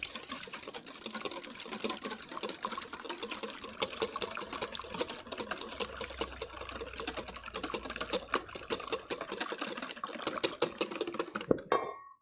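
Sugars, salt, cinnamon and spices get whisked in a bowl for a Thanksgiving dinner, with a rapid, steady clicking of wires against the bowl that runs for about twelve seconds before stopping, close up and without talk.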